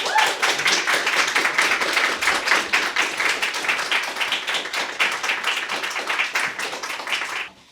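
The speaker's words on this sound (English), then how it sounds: "So everybody clap for Susan Neville." An audience claps for Susan Neville at a literary event, a close, distinct patter of individual hand claps that holds steady for several seconds before stopping abruptly.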